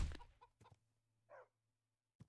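A chicken in the video game Minecraft, FTB Revelation modpack, gives a few short clucks, quiet and sparse with gaps between them, over a low steady hum.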